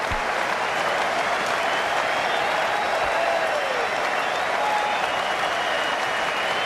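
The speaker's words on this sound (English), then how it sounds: "Warm applause" Warm, dense applause from a cricket crowd at a 2018 England vs Australia one-day international, greeting a big batting innings; a steady, broad wash of clapping sustained for the whole stretch at an even level.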